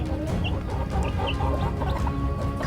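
Aseel hens of a metallic black line clucking in short, scattered calls over a steady low background hum, with no talking.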